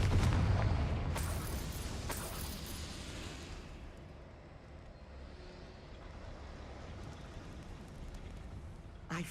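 A Confringo blasting-spell explosion in Hogwarts Legacy: a deep, loud boom with sharp cracks at the start, then a long rumbling decay that fades into low ambience.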